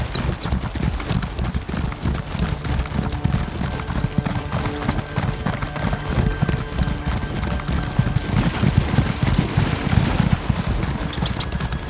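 Horse hooves clip-clop steadily in The Elder Scrolls Online while riding through Greymoor's Skyrim bogs, a dense continuous trot with a faint whinny near the end.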